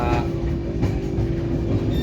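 Aboard the Darjeeling Mail from Bardhaman, the train runs with a continuous low rumble and steady rolling drone from inside the carriage, without speech.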